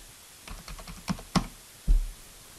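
Several quick keystrokes on a computer keyboard entering a transfer number for a call-center phone system, uneven clicks close by with a heavier final tap like an enter key, no talking.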